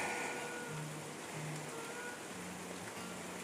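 Rain pours down around a shelter beside rice fields, a dense steady hiss with a few faint tonal sounds mixed in and no talking.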